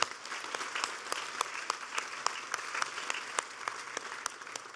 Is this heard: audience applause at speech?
yes